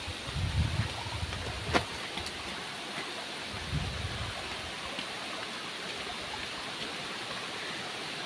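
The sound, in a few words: small waterfall in a Konkan village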